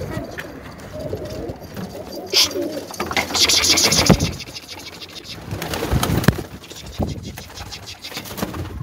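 Pigeons coo softly and repeatedly nearby, with rustling, wing flutters and scattered handling noises, and people talk intermittently around them.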